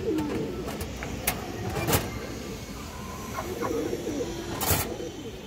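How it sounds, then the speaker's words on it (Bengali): A tota female pigeon coos softly among other birds, with scattered short calls and clicks over a steady background murmur, close by. "তোতা মাদি কবুতর, খুবই সুন্দর একটা তোতা মাদি কবুতর দর্শক"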